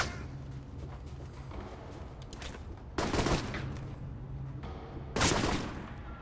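Automatic weapon fire in the video game Alpha Protocol, clips emptied at body mass in two loud bursts over a quieter layer of scattered shots and low background rumble.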